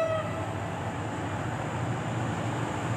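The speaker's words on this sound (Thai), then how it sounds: "รถไฟมาแล้วฮะออกมาจากสถานีลาดกระบังนะฮะ" A long train leaves Lat Krabang station and passes close by, its steady, loud rumble filling the scene without a break, with no voices over it.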